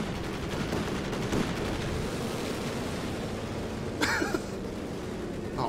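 Machine gun fire in the World War II strategy game Company of Heroes 2 rattles on within a dense, steady wash of battlefield noise, with a brief sharper burst partway through.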